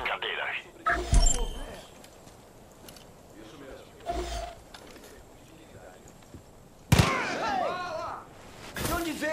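Gunfire in the open-world shooter Far Cry 5, with a few sharp loud shots standing out from ambient game sound and voices talking throughout.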